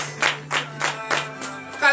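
A congregation at a Friday morning prayer service in Benin claps in acclamation: a handful of loud, spaced claps close by, over a steady low hum.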